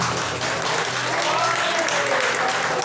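Applause from a congregation during an evening church service, a steady dense wash of clapping filling the room for the full few seconds with a faint voice underneath.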